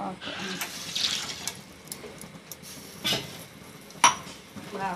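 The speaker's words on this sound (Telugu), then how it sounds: "గ్లాస్ పాలకి గ్లాస్ వాటర్." Water is poured into a pan that already holds milk, a soft running splash with a few metal clinks from the pan, while a person talks quietly.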